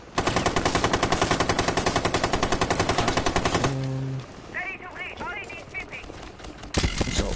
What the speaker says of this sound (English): There's a lot of shots happening from roamers.